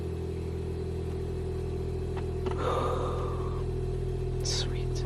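An air ride compressor installed in a BMW E38 hums steadily inside the car as it builds pressure, a constant low drone with a few brief clicks and a faint hiss partway through.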